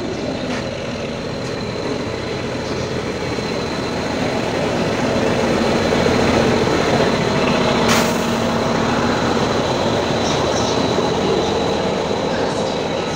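A train runs along the rails near Tirur railway station in Kerala, a steady rolling rumble holding throughout at moderate closeness, with a brief sharp clank partway through and no talk.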